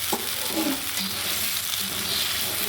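Broth poured into a pan of frying turnip, potato and lentil fritter curry, a steady wash of sizzling and bubbling with soft stirring scrapes, close and continuous with no talk.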